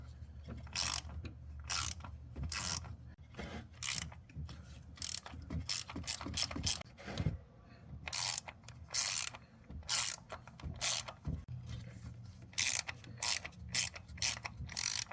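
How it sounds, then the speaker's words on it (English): A ratchet clicks in repeated bursts while removing T27 Torx screws from the brake vacuum pump cover on a 2010 VW Jetta MK5, close and moderately quiet with brief pauses between strokes. "Remove the vacuum pump cover by removing the four T27 Torx screws."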